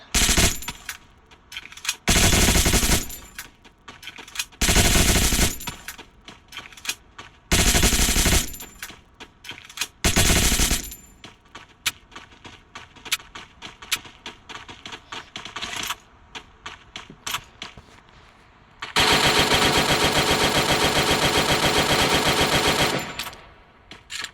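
Rapid automatic gunfire from the Free Fire mobile battle royale game, loud bursts of machine-gun fire repeating in short volleys, then a long sustained stream of shots near the end, with clicking in between and no talking.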